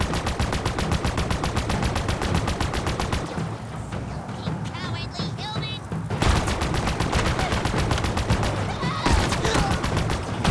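Rapid automatic gunfire rattles almost continuously in a Halo Infinite campaign battle, loud and dense, with a brief quieter stretch of electronic game effects in the middle before the firing resumes.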